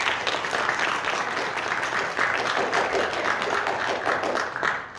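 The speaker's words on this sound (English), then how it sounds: "Give Matthew a round of applause, ladies." Audience applause at a district spelling bee, dense clapping from a crowd in a hall, loud and sustained for about five seconds.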